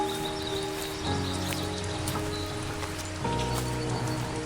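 Rain falling steadily in a forest where a large brown bear roams, a continuous close patter of drops with scattered brighter ticks throughout, no voices.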